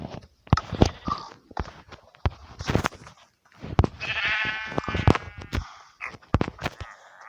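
A sheep bleats once in Minecraft in a wavering cry amid scattered clicks, taps and footstep-like clatter, fairly close.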